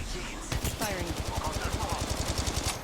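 Automatic weapon fire in the mobile battle royale game Apex Legends Mobile: a fast, even rhythm of loud shots starting after a brief pause and running to the end, with a voice talking over it.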